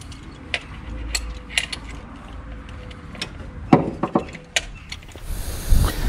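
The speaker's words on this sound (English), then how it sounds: "now to remove all the spark plugs" Close-up mechanical clicking and scraping as spark plugs are worked loose from a Rover V8 engine, with irregular ratchet-like ticks, knocks and a few louder clunks toward the end.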